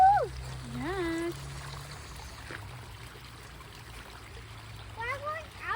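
Water flows steadily in a village stream, a soft continuous rush heard close by, with high chirping and whistling sounds and voices layered over it.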